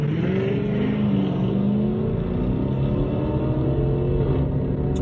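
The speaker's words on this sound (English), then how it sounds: "There were two Chargers doing power slides behind me." Two Dodge Charger 392 cars rev hard and power slide at a distance, a continuous loud engine roar with wavering pitch and no talk over it.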